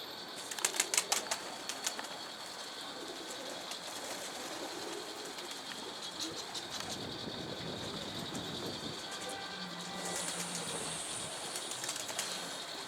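A single pigeon flaps its wings in flight, a quick burst of near wingbeats at the start, then steady outdoor ambience with faint rustling and distant background noise, no talking.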